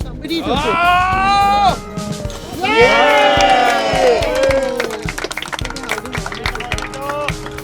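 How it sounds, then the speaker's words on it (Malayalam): Spectators in a gallery shouting and cheering at a horse ring-spearing show in an Argentine village, loud voices rising in long excited whoops, then breaking into scattered shorter calls. "സന്ദർശകരുടെ ഗാലറിയിൽ നിന്ന് ആവേശവും ആർപ്പുവിളികളും ഉയരും"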